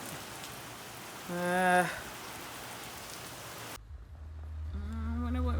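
Heavy rain falls with a steady, close hiss of drops on surfaces, while a person speaks briefly in short bursts over it.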